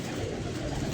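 A pigeon coos briefly nearby, a soft low murmuring call over a faint noisy background.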